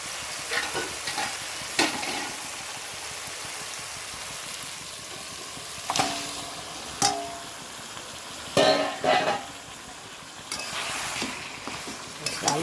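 Chicken sizzles in a pan of fried masala, a steady crackling hiss broken by several sharp scraping stirs and clatters, close and fairly loud.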